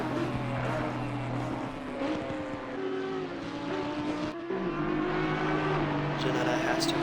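GT4 race cars, an Audi and a Ginetta, roar steadily around Circuit Catalunya, with engine tones shifting up and down in pitch as they pass at close range while a commentator talks over them.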